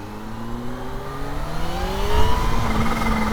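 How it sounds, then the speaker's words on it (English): Supercharged Kawasaki Z H2 motorcycle accelerating hard, its engine note climbing steadily in pitch and growing louder through a single pull, with a whine layered over the rising roar and no talk. "See that torque from that supercharger, man. Once it kicks in, oh, it's sick."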